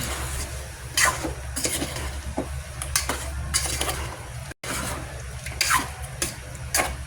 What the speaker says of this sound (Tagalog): Tsaka natin yung haluin